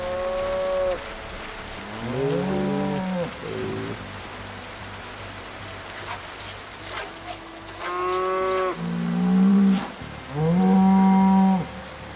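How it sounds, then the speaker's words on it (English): Cows moo in the video game Project Zomboid, several long, drawn-out calls spread across the scene, some overlapping, over a soft rain-like background hiss. "We're gonna go milk the cows now."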